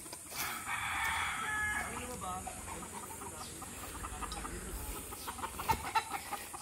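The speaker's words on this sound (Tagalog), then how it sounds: "Ang dami manok." Chickens cluck and a rooster crows amid a busy outdoor farmyard, with murmuring voices and scattered short calls in the background.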